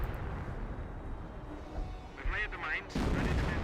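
Artillery barrage in the Company of Heroes video game, with low booming impacts rumbling under a steady bed of battle noise, a brief whistling shell sound, and a louder blast near the end, while a commentator talks over it.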